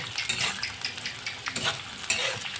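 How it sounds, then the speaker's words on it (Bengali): Chopped onion and capsicum fry in a pan for a masala chicken dish, with a constant sizzle broken by scraping spoon strokes and a few sharper clinks against the pan. "এই পেঁয়াজটা আমি ভালো করে বাদামি করে ভেজে নেবো"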